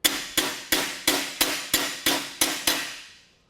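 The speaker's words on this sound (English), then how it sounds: "Use an anvil if you have it, and give it a little tap." Eight sharp hammer blows ring out on thick bumper sheet metal on an anvil, struck in a steady, quick rhythm, each loud, close metallic clang decaying before the next, with a long ring-out at the end.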